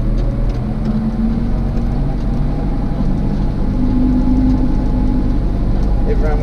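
A tractor engine runs steadily nearby, a continuous low drone with a faint whine shifting in pitch, while people talk over it.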